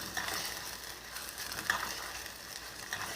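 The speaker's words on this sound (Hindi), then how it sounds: "चिकन को मैंने इस प्याज़ों के साथ फ्राई करना है।" Chicken frying with onions in a pan for a boneless chicken handi, a steady soft sizzle running throughout with faint clinks and scrapes at intervals, no talking.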